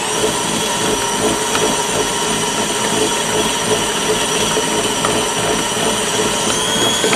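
Electric mixer blending soft, wet chocolate cookie dough with finely chopped maraschino cherries, a steady whirring motor whine running unbroken and loud throughout, no talking.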